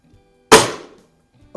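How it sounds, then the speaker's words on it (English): Single sharp crack of a Norica air rifle shot, loud and close, decaying quickly, followed at the end by the start of a voice. "This gun is really a lot of fun to shoot."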